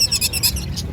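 Pet lovebirds for sale at a market stall, several quick bright chirps in close succession, fairly loud and near, no voices.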